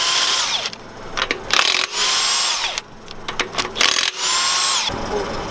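Half-inch impact gun on 22 mm bolts of a 2018 Dodge Ram 3500 dually during a front brake job, loud bursts of whirring and rattling separated by short pauses.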